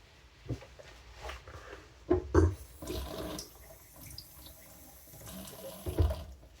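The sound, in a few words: rinsing honing stone with plain running water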